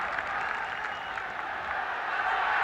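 An Irish football crowd in a stadium keeps up a steady, distant wash of applause and cheering, with a faint voice over the top.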